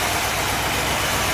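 A 1964 Cadillac V8 idles steadily after firing up, a continuous close-up engine rumble with broadband hiss and no voices over the brief stretch.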